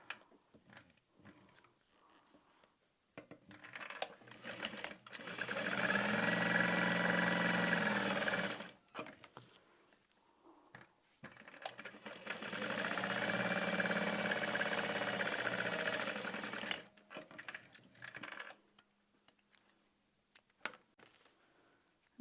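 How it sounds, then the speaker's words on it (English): A sewing machine top stitching across fabric for a small handmade bag, running in two sustained bursts of a few seconds each, separated by short pauses, with quiet handling noises in between. "And then we'll top stitch all the way across this"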